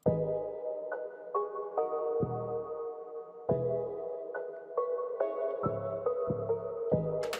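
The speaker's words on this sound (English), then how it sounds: "the Zay 808 has a short tail sound like this" A melodic beat with deep 808 bass hits that cut off quickly, short punchy tails pulsing under a steady synth melody, no voices.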